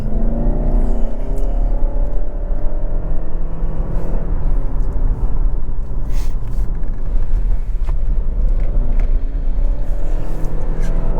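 Lexus ES300h F-Sport hybrid sedan driven hard in sport mode during a handling test, heard from inside as a loud, continuous engine drone with road roar and rising revs throughout.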